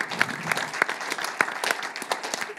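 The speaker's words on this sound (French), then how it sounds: "j'aimerais que vous l'applaudissiez parce que c'est une femme exceptionnelle" Audience applause at a public debate on Europe and the Uyghur genocide, a steady wash of many hands clapping with sharp individual claps standing out, moderately loud and with no talk over it.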